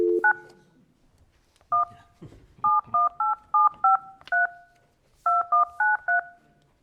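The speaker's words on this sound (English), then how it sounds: "Can you dial me back in, please?" Telephone keypad dialing tones on a call line: a quick run of short, evenly spaced beeps in bursts, clear and isolated, with faint background noise between groups.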